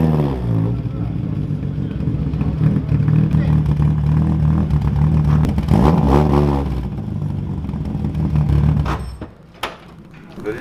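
A 1969 Ford Capri's engine runs on dyno rollers, a loud steady growl with strong harmonic tones holding and swelling through repeated revs, then cutting out abruptly near the end, followed by clanks and a door-like thud.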